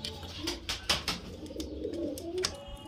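Highflyer pigeons in a loft coo in low, rolling bursts, with scattered clicks and wing or foot shuffles nearby and faint voices in the background.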